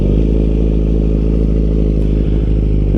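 A 2020 Kawasaki Z900 motorcycle engine runs loud and close, a continuous deep rumble with a steady clattering idle that fills the whole moment without any voices.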